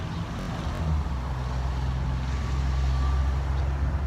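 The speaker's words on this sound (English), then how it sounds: "You're also going to hear traffic in the background on this video because there's a street right beside us here." Street traffic from a road right beside a lavender plant full of bees, a steady low rumble of passing vehicles in the background with no talk.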